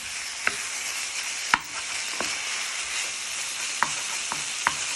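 A wooden spoon stirs and breaks up chicken burrito filling with herbs and seasoning in a hot pan. There is a steady sizzle and frying hiss, punctuated by several sharp clicks and taps of the spoon against the pan.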